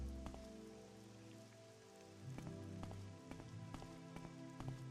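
Rain falls steadily in the video game Morrowind, a constant patter on surfaces with soft drop sounds throughout.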